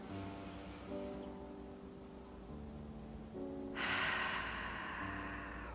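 A person draws a soft, airy breath in during a morning stretch, with breathy noise at the start and a longer, fuller inhale later over quiet sustained background tones.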